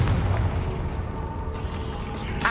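A Confringo fire spell blast in the video game Hogwarts Legacy erupts as a heavy booming burst, followed by a rumbling tail and a sharper crack near the end.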